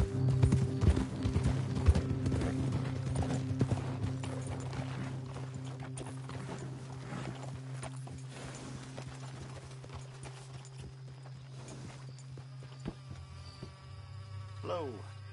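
Rhythmic clip-clop of horse hooves plodding steadily in the video game Red Dead, with a low steady hum and buzzing insects in the background.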